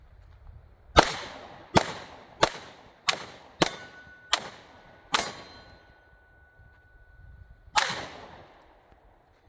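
Pistol shots from an FN Reflex or Springfield Hellcat Pro, fired one-handed: seven sharp, loud reports in quick succession, then a pause and one more shot, with no talking.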